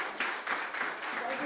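An audience gives warm applause at a recognition presentation, a short burst of dense clapping that swells and fades in waves, with a voice faintly present.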